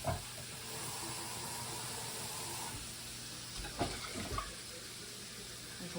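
Water poured from a cup into a pan for biscuit gravy, giving a steady soft hiss and splash throughout, with a couple of brief clunks near the end.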